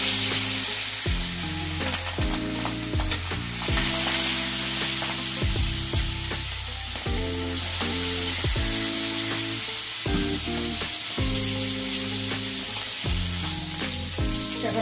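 Pieces of rui fish frying in hot oil, a loud dense sizzle crackling continuously up close, with no talk over it.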